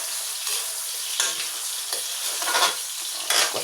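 Fish sizzling in hot oil in a pan, stirred in short scraping bursts over a steady, fairly loud crackle that runs throughout.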